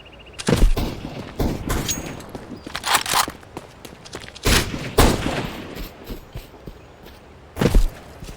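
Sniper rifle shots in CS:GO on the Lake map, heard as several sharp, loud cracks spaced irregularly among softer footsteps and movement, with no one talking.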